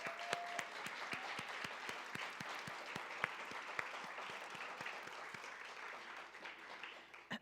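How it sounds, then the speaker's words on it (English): An audience at a book awards event applauds the shortlisted writers. Steady, moderately quiet clapping fills the room, with a few distinct nearby claps cracking out regularly above the general patter. "So let's give them a round of applause."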